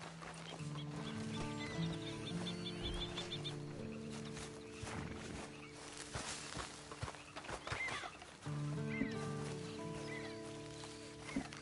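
In the Red Dead Online video game, a horse's hooves clip-clop steadily at a walking pace, with snorts and a whinny over a sustained musical score.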